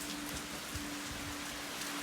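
Steady rain falls outdoors onto a tent, a dense, even patter with scattered heavier drops close by, continuous and fairly quiet with no voices.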